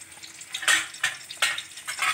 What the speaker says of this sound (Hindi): अब हम इसमें डालेंगे ये गार्लिक जो मैंने क्रश करके रखा हुआ है